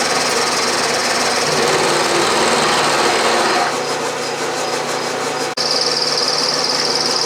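A 6-inch Atlas lathe mills a slot in a metal workpiece with a loud, continuous grinding whir and rasping cut, a tone change partway through and a brief sharp click near the end, with no talking.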